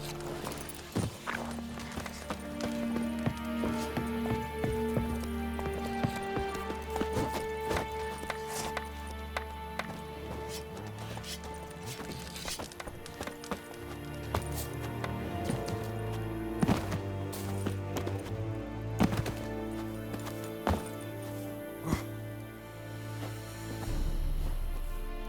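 Horse galloping in the video game The Witcher 3 on PS5, rhythmic hoofbeats running steadily under a game music score, with occasional game sounds and no talking.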